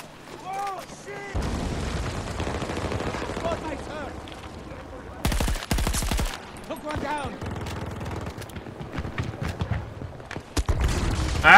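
Gunfire in the video game Battlefield 2042, loud bursts of automatic fire and heavy shots with strong recoil punch, broken by short pauses, with voices and game sounds between the volleys.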